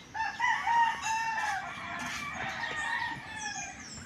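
Roosters crow repeatedly amid clucking chickens, several birds calling over each other at moderate distance against a steady outdoor background.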